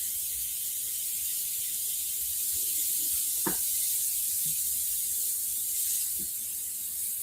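An airbrush sprays paint with a steady, soft hiss that runs through the whole stretch, with a few faint clicks and taps standing out over it.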